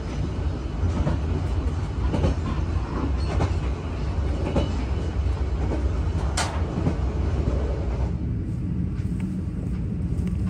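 The Blambangan Express passenger train in Indonesia rolls steadily along the rails, a constant loud rumble with rhythmic clacking and occasional squeaks, no talk.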